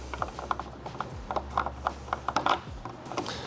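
A fastener for the tail light on a 2022 Subaru WRX is tightened with a ratchet, a quick run of close, rhythmic clicking bursts that repeats steadily with no voices.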